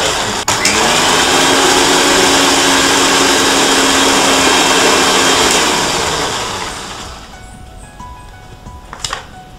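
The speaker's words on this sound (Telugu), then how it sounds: "ఫస్ట్ అయితే మనం మ్యాంగో అలాగే షుగర్ వేసి అలాగే కొన్ని ఐస్ క్యూబ్స్ కూడా యాడ్ చేసి మిక్సీ చేసుకోవాలంట" A mixer grinder blends mango, sugar and ice cubes with a loud, steady motor whir for about six seconds, then winds down to near quiet, ending with a brief faint clatter.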